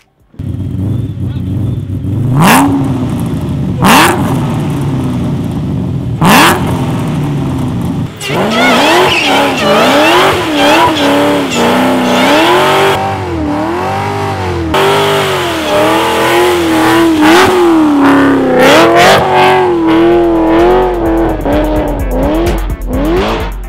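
A 1000 rear-wheel-horsepower Shelby with a Kooks exhaust starts with several sharp throttle blips. It then roars into a long, loud, close burnout, the engine note rising and falling while the tires squeal and scrub continuously.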